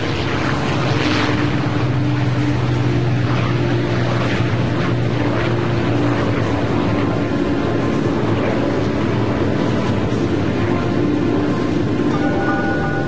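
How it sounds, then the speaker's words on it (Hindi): The B-29 Superfortress bomber Bockscar takes off with a loud, continuous propeller-engine roar and drone, steady and close throughout, with no voices. "B-29 super fortress box car ने उड़ान भरी।"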